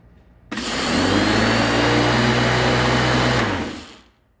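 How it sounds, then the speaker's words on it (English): A Black & Decker MM875 electric lawn mower motor switches on abruptly and runs at a loud, steady hum for about three seconds, then shuts off and winds down. The sound is close and there is no talking. "So now I'm going to try to turn on the mower and it should kick on."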